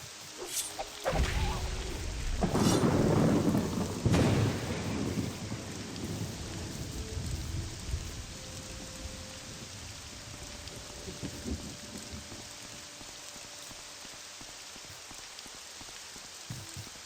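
Thunderstorm in the game Morrowind: a loud rolling thunder crash early on over steady heavy rain, which continues alone afterward with a faint tonal hum.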